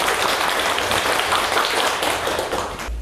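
A classroom of students gives a big round of applause to welcome visiting teachers and guests, a dense, steady wash of many hands clapping at once that holds loudly throughout and cuts off abruptly at the end.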